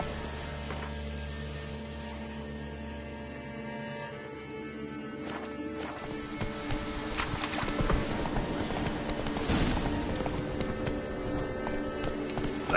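A horse gallops in The Witcher 3, its rhythmic hoofbeats loud and steady over game music and ambience, picking up intensity partway through.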